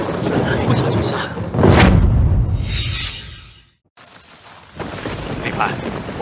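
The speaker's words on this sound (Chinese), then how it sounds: "又下雨了，下雨了，快走，快走！" Heavy rain pours with rolling thunder and a loud boom early on, then a brief silence before steady rainfall resumes, with people's voices shouting over it.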